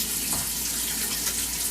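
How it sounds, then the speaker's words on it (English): Tap water runs steadily into a sink while hands are rinsed, a continuous close splashing hiss that holds even throughout. "I'm going to quickly rinse my hands and wash them like we normally would. Just put on some water."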